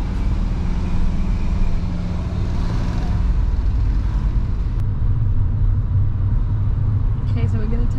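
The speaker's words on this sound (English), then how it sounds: "Go on, second gear, drive off," A car pulls away from traffic lights at a large roundabout in second gear, its low engine and road rumble steady and close inside the cabin while people talk over it.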